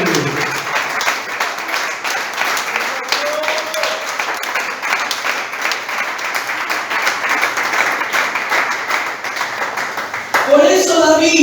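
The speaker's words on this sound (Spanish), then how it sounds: "Aplauda, querido." A church congregation claps steadily in a sustained round of applause with a few voices mixed in, ending in a louder burst near the close.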